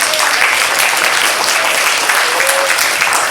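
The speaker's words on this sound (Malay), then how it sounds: "beri tepukan kepada dia lagi sekali" An audience at a Mini Bangsawan competition breaks into sustained, dense applause, with steady clapping filling the room throughout.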